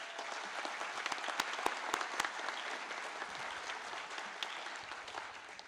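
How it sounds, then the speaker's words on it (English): Steady, moderately distant applause from the audience at a law enforcement academy graduation ceremony, with a few sharper individual claps early on and a faint voice under it. "If you please give him a round of applause."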